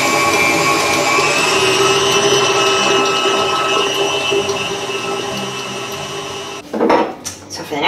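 A stand mixer whisks pumpkin cookie batter in a bowl, a steady loud whirring drone that runs for several seconds before cutting off, followed by a few sharp clanks.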